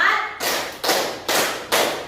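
A class of children claps in unison in a counted classroom rhythm, four sharp, evenly spaced group claps following a brief voice, fairly close and loud.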